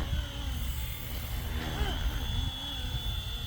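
A Flywing H1 RC helicopter flies with a steady whirring drone of rotor and motor, holding an even level throughout, and a voice talks over it.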